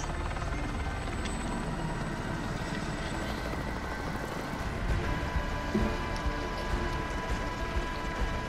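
A video game helicopter drones on continuously with a steady rotor and engine roar, close and even throughout, with no one speaking over it.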